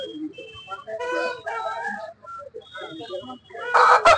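A rooster for sale at an Anantapur market clucks and crows in several loud bursts close by, with people bargaining over the price nearby and a harsh rasping noise at the end.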